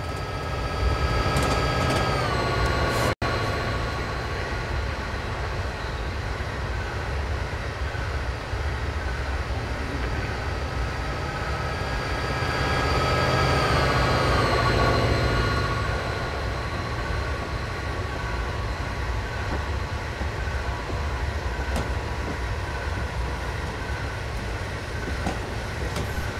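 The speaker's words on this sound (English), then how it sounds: "Here he come! Look out! Train!" A train in a train simulator game rumbles past with a steady rolling roar and a rising, then fading, swell in the middle, continuous throughout with no talking.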